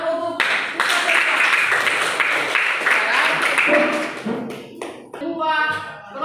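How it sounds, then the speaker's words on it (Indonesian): Students in a classroom clap together in a dense burst of applause that lasts several seconds and then fades, and children's voices follow. "tepuk tangan dulu untuk"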